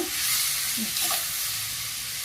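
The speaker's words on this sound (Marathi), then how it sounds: "हे बघा कांदा छान परतून झालेला आहे आता आता टोमॅटो टाकून घेऊया" Chopped tomatoes go into fried onion and are stirred and sautéed in a pan. A soft, steady sizzle sits under occasional scraping stir sounds, and no one speaks.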